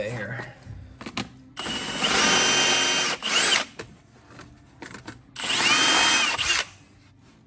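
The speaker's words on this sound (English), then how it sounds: "I think we're gonna have to drill this baby out a little bit here" A power drill boring out a part on a golf cart, loud whining bursts that start and stop several times, close by, with brief talk in the gaps.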